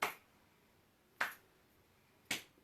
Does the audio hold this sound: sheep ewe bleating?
no